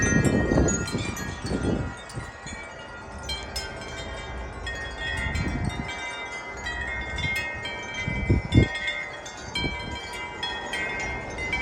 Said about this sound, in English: Oh wow, a gust.